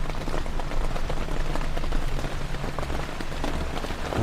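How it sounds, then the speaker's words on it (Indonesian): Heavy rain pours steadily outside a tent, a dense, continuous hiss of drops drumming on the surface with a low rumble underneath, loud and close throughout. "Hujan pula di luar nih."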